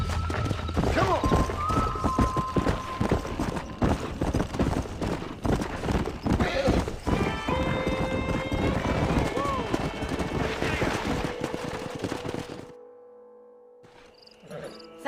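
Horses in the video game Red Dead Redemption, with rapid hoof clip-clops and a whinny over ambient game sound and crickets. Voices speak over the action before the scene drops to a quiet tail.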